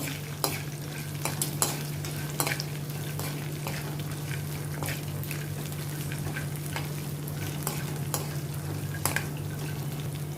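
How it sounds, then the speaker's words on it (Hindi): Almonds and peanuts roasting in a pan for poha chivda, a steady low sizzle under repeated sharp scrapes and taps of a stirring spoon, close and continuous without talk. "इसमें मैं अभी ये थोड़े आलमंड्स डालती हूँ, इनको भी अभी मैं पीनट्स के साथ रोस्ट करती हूँ।"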